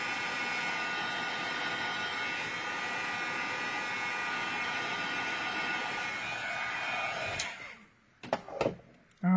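A loud, steady blowing roar of a heat tool drying stencil ink runs continuously for most of the clip, then cuts off, leaving a few brief clicks and knocks.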